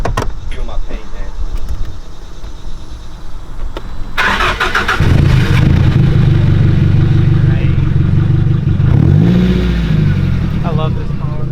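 A Nissan DR30 shop car starts up partway through, its engine settling into a loud steady idle with a brief rev near the end, after quieter background sounds and some talk beforehand.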